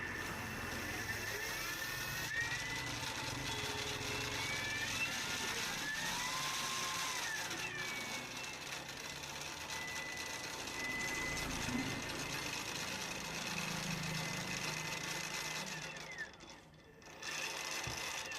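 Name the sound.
Geekay 1000 W electric rickshaw motor running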